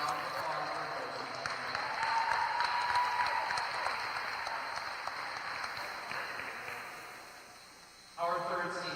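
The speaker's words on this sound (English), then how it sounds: "Round of applause for Josie." Crowd applause at a high school volleyball senior night in a gym, steady sustained clapping that slowly tapers off before a voice comes in over the PA near the end.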